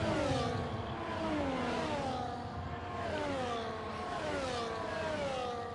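Engine whine from racing cars running behind the safety car at Spa in a racing video game, a continuous layered drone with slowly wavering pitch, steady and fairly loud, with no talk.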